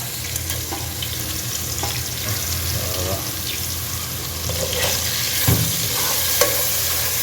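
Cinnamon, cloves and cardamom fry in hot oil for a mutton biryani, giving a steady close sizzle with a few clinks and stirs and a brief thud near the end.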